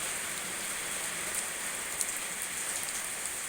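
Heavy rain pours down in a dense, even hiss of drops on surfaces, steady and loud throughout with a few sharper spatters, no voices.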